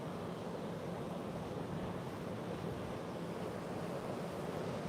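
Wind and ocean surf roll past a cruise ship sailing out of Invergordon, Scotland, a constant low rushing roar with buffeting wind noise on the microphone, steady and unbroken throughout.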